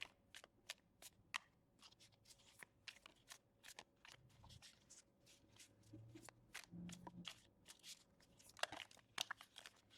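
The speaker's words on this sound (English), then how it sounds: "Let's shuffle it up a little bit." Small tarot cards being shuffled by hand, a quick run of crisp riffling flicks and snaps, close and fairly quiet, with soft rustling between bursts.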